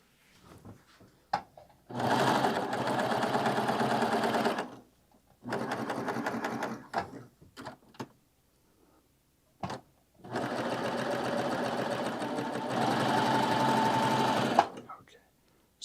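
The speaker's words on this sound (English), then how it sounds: "let's test out our cover stitch here" A Baby Lock serger sewing a cover stitch runs in three loud, rapid whirring bursts of a few seconds each, with quiet gaps, small clicks and handling noises between them.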